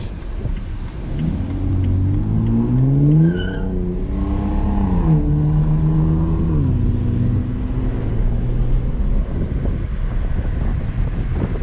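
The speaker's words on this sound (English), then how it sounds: "You can hear that thing. That thing sounds sick. The muffler delete." A 2008 BMW 328xi Sport Package with a muffler delete cruises through a neighborhood, its loud, raspy engine and exhaust rising and falling as it revs through gears, heard close from inside the car over steady wind noise.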